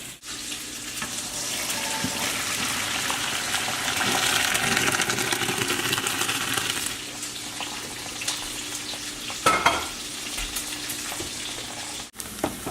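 Bacon frying in a pan, a steady loud sizzle and crackle with occasional clinks and scrapes of utensils, no voices.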